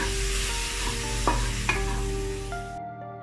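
Tomatoes sauté in masala for a mutton curry, a soft sizzle with a few stirring scrapes and clinks, then the sound cuts off abruptly.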